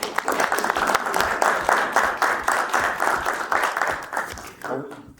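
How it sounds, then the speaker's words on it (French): Applause at a municipal council meeting for a new employee, a small room of people clapping in a loose, pulsing rhythm with voices mixed in, fading out near the end. "On vous applaudit."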